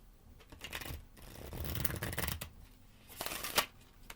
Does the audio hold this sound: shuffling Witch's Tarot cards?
yes